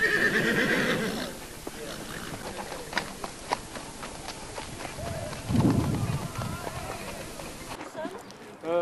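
Horses on an endurance raid track at Rambouillet whinny loudly at the start, then hooves thud and clatter irregularly nearby while people talk outdoors; a short neigh returns near the end.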